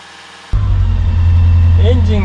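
After a short quiet moment, the small engine of an old Showa-era Mitsubishi Porter Cab kei truck, started on choke, suddenly catches and settles into a loud, steady, rumbling idle close by, with faint voices underneath.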